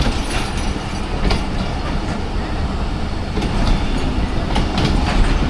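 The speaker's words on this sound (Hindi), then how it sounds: "दोनों ट्रेनों का एक साथ डिपार्चर विसल हुआ है और एक साथ ही डिपार्चर हुआ है।" Awam Express passenger train departing on the Rawalpindi to Lahore line, a loud steady rumble of rolling wagons with clattering wheels and occasional higher metallic squeals, continuous throughout.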